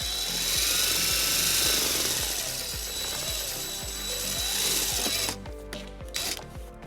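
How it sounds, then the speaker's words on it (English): A power drill bores a hole for a trailer wiring bracket on a 2015 Toyota RAV4, a loud continuous whine with rhythmic grinding pulses that cuts off near the end, leaving scattered handling clicks. "and then we'll drill our second hole."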